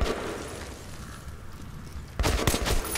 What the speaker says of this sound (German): Oh, ein Schuss, ey.